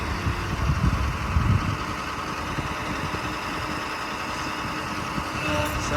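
Diesel engine of a 2012 International TerraStar mechanics service truck idling while its crane winches down, a steady low rumbling drone at moderate level with no talk.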